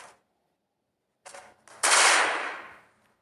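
After a quiet stretch, a couple of sharp cracks lead into a loud burst that fades out over about a second, like a game explosion.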